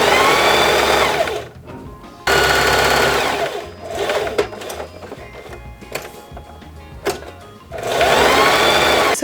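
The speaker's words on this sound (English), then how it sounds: "I'm going to sew them together like this, just leaving the top open" Sewing machine running a straight stitch on fabric for a belt bag, with three loud sustained bursts of whirring stitching at the start, middle and end, separated by quieter handling and fabric noises.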